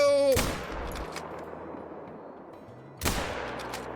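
Two loud rifle shots from the hunting video game Call of the Wild, one at the start and another about three seconds later, each followed by a long rolling echo that fades into outdoor ambience.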